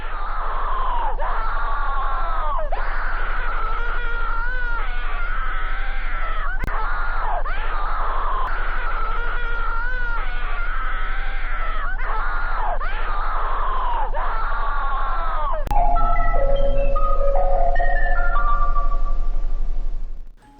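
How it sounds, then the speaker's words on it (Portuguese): Continuous, distorted screaming voices fill a creepy cartoon soundtrack, loud and unbroken, swelling into a harsher, brighter wail near the end. "A cada minuto que passava, os gritos começavam a ficar cada vez mais altos."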